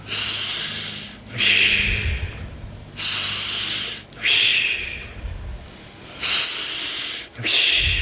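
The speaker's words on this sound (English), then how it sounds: "make your breathing more intense" Forceful, rapid breaths during a breathing exercise, each long rushing hiss of air broken by brief pauses in a steady repeating rhythm, loud and close with no talking.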